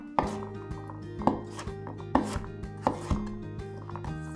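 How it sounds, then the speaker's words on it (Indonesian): Garlic being roughly chopped with a knife on a board, about five or six firm, unhurried thuds spaced through the clip, close and fairly quiet with no talk. "bawang putih, potong kasar"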